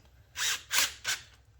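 Three short bursts from a power tool tighten the clamp on a cold-air intake filter of a 2018 Camaro ZL1, close and fairly loud, with quiet pauses between.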